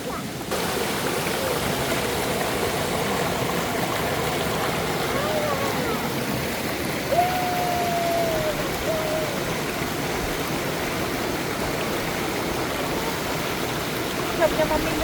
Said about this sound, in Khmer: ទឹកធ្លាក់ល្អខ្លាំងណាស់គូន